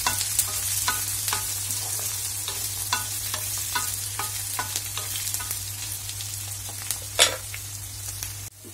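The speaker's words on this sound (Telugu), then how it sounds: "కొంచెం ఫ్రై అయితే సరిపోతుందండి ఆనియన్స్ ముక్కలు." Onion pieces fry in a pan with a constant sizzle under frequent scraping clicks of stirring, including one louder knock near the end.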